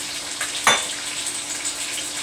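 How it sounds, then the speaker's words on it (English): Bourbon chicken with a splash of sesame oil frying in a pan, a steady close sizzle broken by one brief scraping stir. "I'm just going to give this a stir."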